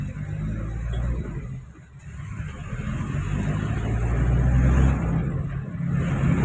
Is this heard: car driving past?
yes